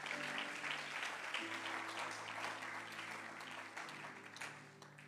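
A church congregation applauding during a Sunday thanksgiving service, a dense, sustained round of clapping under a faint steady hum, slowly easing in loudness.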